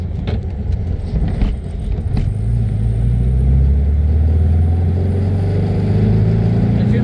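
The air-cooled engine of a 1967 VW Beetle fitted with a 6-volt dynamo runs steadily, a loud low rumble with a rising tone near the end as revs climb. Some knocking and rattling sounds at the start, with no speech.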